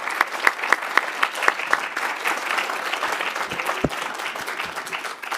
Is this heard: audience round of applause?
yes